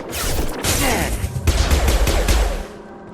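Rapid, loud gunfire in the Mass Effect video game, dense bursts of automatic shots and bangs filling most of the moment before fading out.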